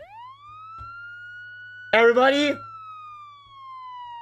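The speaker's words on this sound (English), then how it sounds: "Wait, that's a police siren." A police siren wails in one long steady tone that rises at the start and slowly sags, heard faintly at a distance behind a Fortnite stream, with a short burst of a voice partway through.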